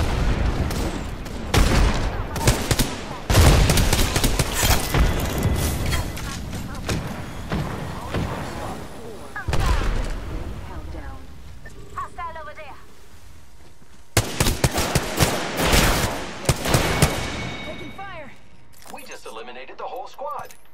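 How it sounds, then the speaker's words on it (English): Rapid bursts of gunfire from the Apex Legends video game in Armed and Dangerous mode, loud and repeated in clusters with short pauses, mixed with game sound effects and voice chatter. "I am taking fire, friends."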